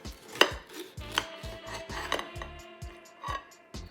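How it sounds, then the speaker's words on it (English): A bread knife slicing lengthwise through a dragon fruit on a cutting board, a series of soft separate sawing strokes and knocks in a quiet kitchen, fairly close and faint. "Now we're going to cut our dragon fruit."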